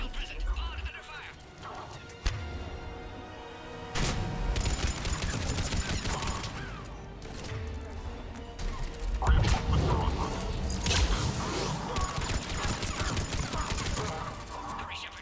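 Heavy gunfire erupts in a Mass Effect 3 battle, with bursts of shots, crashes and impacts filling the scene as voices talk over the combat.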